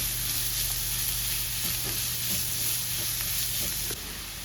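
Two medium-sized chopped onions fry steadily with cardamom, cloves and cinnamon for a Bengali egg curry, a dense, even sizzle with faint stirring scrapes that drops slightly in level near the end.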